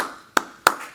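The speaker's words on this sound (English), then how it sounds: "Let's applause." Sharp, close claps from a conference talk audience, three distinct hand strikes spaced evenly across about a second, with no voices.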